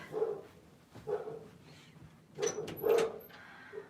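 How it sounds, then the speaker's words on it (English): A pet dog named Sumo barks indoors in short bursts, a few separate barks early on and a louder cluster near the end, fairly close and with no talk over them. "And Sumo's barking."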